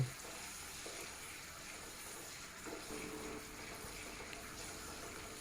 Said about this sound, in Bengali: এবার এটাকে এক দু মিনিট মতন একটু নেড়ে চেড়ে ভেজে নেব